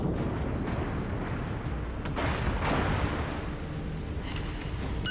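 Battleship gunfire in World of Warships, the South Carolina on the Solomon Islands map, a steady roar of distant naval guns and explosions rumbling continuously, with a few sharper blasts standing out, no talk.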